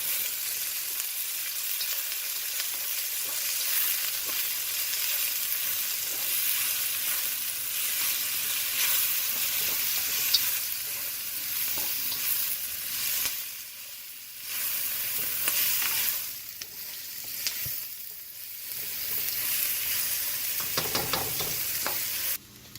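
Vegetables fry in olive oil in a wok over high heat, giving a loud, steady sizzle with stirring scrapes and brief dips in intensity, heard alone without talk.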